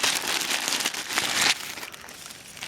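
A plastic zip bag is handled close up, giving bursts of crisp crinkling and rustling that are louder at first and then settle into quieter handling.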